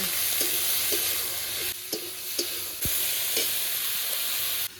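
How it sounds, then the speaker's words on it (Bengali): Eggplant and potato frying in oil with slit green chilli, salt and turmeric, sizzling loudly and steadily while a utensil scrapes and taps the pan several times. "এবার বেগুন আর আলুটা ভেজে নেব"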